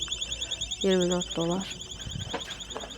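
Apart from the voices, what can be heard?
store security alarm beeping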